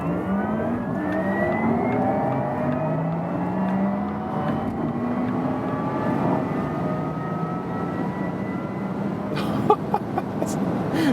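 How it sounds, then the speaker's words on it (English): A 2021 Porsche Taycan Turbo S accelerates hard with its electric sport sound switched on, producing steadily rising synthetic whining tones over road and wind roar that build for several seconds. "there's this additional electric sports sound activated, and brace yourself because this acceleration here is absolutely insane"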